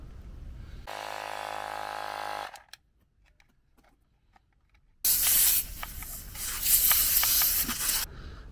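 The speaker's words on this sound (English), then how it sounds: "We'll start off by getting a bit of air in these tyres." Air hisses in bursts while a Honda C90 motorcycle's tyres are inflated: a steady loud rush for under two seconds, a pause of quiet, then a longer, rougher, fluctuating blast of air close to the microphone.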